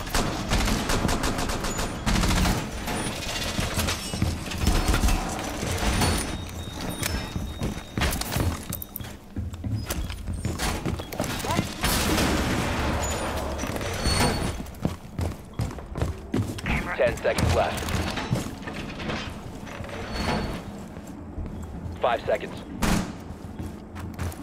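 Heavy gunfire in the tactical shooter video game Rainbow Six Siege, with dense, loud bursts of automatic shots and clattering mechanical noise running almost without pause, mixed with voices talking.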